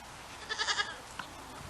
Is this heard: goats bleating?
yes